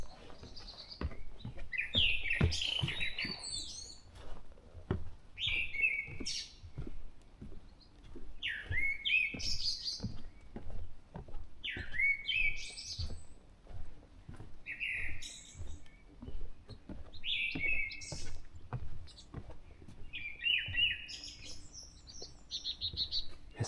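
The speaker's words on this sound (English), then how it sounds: "I can hear two kinds of birds." Birds sing on a morning outing, bright chirping phrases repeating about every three seconds over a soft outdoor background, clear but moderately distant, with no talking.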